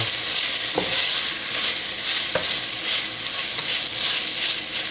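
Green beans sizzle steadily in a frying pan, with a constant loud hiss broken by a couple of sharp clicks as they are stirred.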